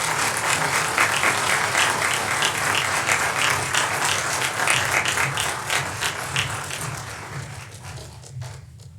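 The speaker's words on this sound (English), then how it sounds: "Let's give her a round of applause." An audience at a College of Education graduate hooding ceremony at Idaho State University gives a sustained round of applause, dense and even clapping that holds steady before tapering off at the end.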